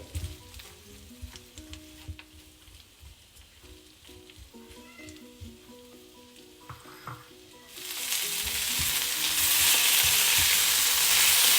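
Boiled potatoes are stirred with spices and rock salt in a frying pan for a dry Indian fasting dish. Quiet scraping and clinking of a spoon build into a loud, steady sizzle of frying, with no talking.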